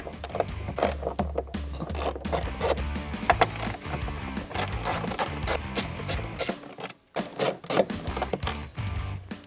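A ratchet turns out 10 mm bolts from a truck's A-pillar interior trim, giving rapid close clicking in quick bursts with short pauses between strokes.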